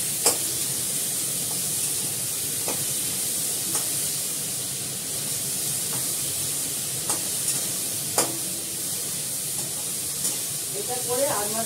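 Whole onions fry in a wok for a meat dish, a steady broadband sizzle with occasional sharp stirring clicks and scrapes, moderately close and continuous.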